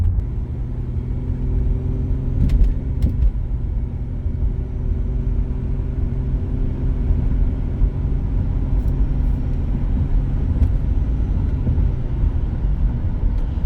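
A 1997 Audi Cabriolet convertible driving along, its steady low engine drone and road rumble filling the cabin evenly, with a few faint clicks and knocks over the continuous hum.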